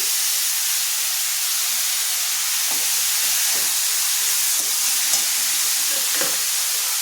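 Chopped onion, cabbage and other vegetables sizzle in a pan for soybean chilli, a steady broadband hiss running throughout with a few faint clinks and stirring scrapes, no talking.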